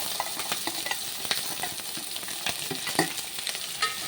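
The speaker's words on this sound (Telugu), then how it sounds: "వేగినవి ఉల్లిపాయ పచ్చిమిరకాయ వేస్తున్నాను." Chopped onions and green chillies fry in hot oil with seasoning spices for a bitter gourd stir-fry, giving a steady, dense sizzle with scattered crackles and pops close by, with no voices over it.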